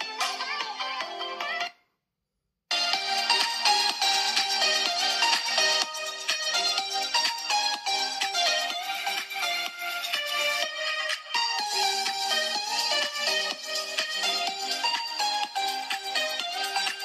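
A ringtone melody plays loud and continuous through the stereo speakers of a Realme GT Neo 2 phone, bright and steady, with one brief pause near the start before the tune resumes and runs on.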